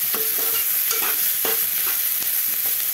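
Ivy gourd curry stirred and fried in a pan, giving a steady loud sizzle broken by repeated scraping strokes of a spoon, close and continuous with no talk.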